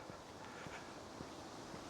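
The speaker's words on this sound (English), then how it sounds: "because it's very windy out here." Steady, low wind buffets the microphone outdoors, a constant dull rumble with faint rustling and no voices.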